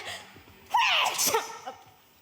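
A single sharp sneeze from a performer in a live stage production of Danganronpa, with a quick intake of breath and then an explosive, close burst that fades within a second.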